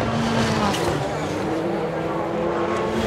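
Supercars race car engines droning around the track during qualifying, a steady loud roar from cars passing at speed, mixed under commentary voices.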